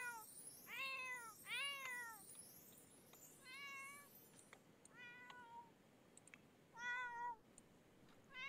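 Two cats in The Sims 4 meow repeatedly, a series of distinct, fairly close mews spaced across the stretch, over a faint steady background.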